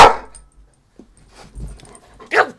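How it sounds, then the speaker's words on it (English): A dog gives a couple of sharp barks, one at the start and another near the end, with soft whimpering noises between, close and loud in a quiet room. "I apologize for you coming in on Sir Barks-a-Lot here."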